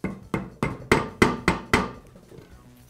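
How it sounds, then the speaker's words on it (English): A rubber mallet taps a bearing into the gear housing of a Makita angle drill: seven sharp, evenly spaced knocks over about two seconds, growing louder then fading, close and clear with no talk. "I'll use a rubber mallet to make sure the bearing is seated"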